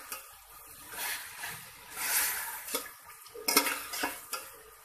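Shredded cabbage stir-fried with chicken in a pan over high heat, with steady sizzling and repeated scraping and clinking of a utensil against the pan; no one speaks.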